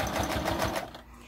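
Sewing machine backstitching through fabric and thick Insul-Bright batting for a brush holder, a close, rapid mechanical stitching rhythm that slows and stops near the end.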